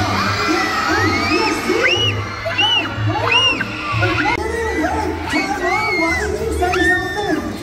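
An audience at a seal and otter show at SeaWorld Orlando screams and shouts loudly, children's high yells and whoops rising in repeated bursts over a constant crowd roar.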